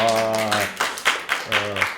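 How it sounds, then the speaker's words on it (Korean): A forum audience on North Korean performing arts gives scattered applause, a few sharp hand claps breaking through while a voice speaks at the start and again partway through. "일단 박수 한번 주실까요?"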